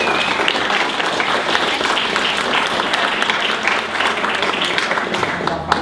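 A meeting audience at a presentation-skills talk gives a round of applause, loud continuous clapping from a room full of people that holds steady throughout before easing near the end.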